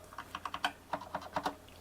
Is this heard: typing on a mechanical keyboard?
yes